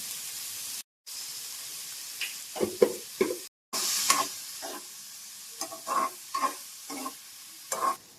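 Sliced onions frying with a little salt in a pan until brown, a steady sizzle broken by two short silences and punctuated by stirring scrapes and spatula taps, close and fairly loud with no talking.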